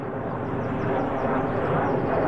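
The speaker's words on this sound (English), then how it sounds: "SOLEX01 is about to carry out 2 low approaches." Boeing E-3D Sentry AWACS aircraft making a low approach at RAF Brize Norton, a loud, steady jet engine roar holding evenly throughout without a break.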